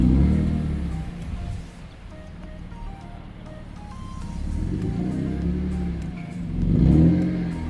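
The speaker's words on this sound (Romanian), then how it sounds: "dăm câteva ture față-spate să vedem dacă volanul s-a poziționat." BMW E46 car driving a few short laps forward and reverse, its engine rising and falling in moderate revving swells with a whirring tone and some background noise.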